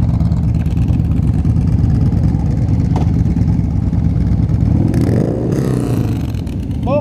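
Honda Shadow motorcycle ride, a steady low rumbling engine drone with wind noise close by, holding a constant throttle throughout with brief passing whooshes near the end.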